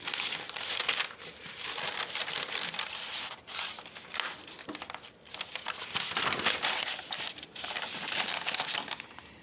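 Piece of paper being crumpled, close crackling and crinkling bursts in several waves with short pauses between them, no one talking.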